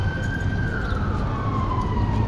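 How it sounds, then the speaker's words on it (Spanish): Emergency vehicle sirens wail across a city street after a magnitude 7.4 earthquake, one steady siren tone gliding slowly downward over low traffic rumble at moderate distance. "Vehículos de emergencia por todos lados"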